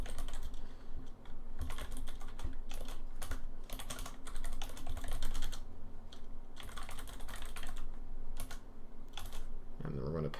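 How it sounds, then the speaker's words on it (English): Code being typed on a computer keyboard: a fast, steady clatter of close keystrokes in uneven bursts with short pauses, over a faint background hum. "I am still going to go ahead and type this out"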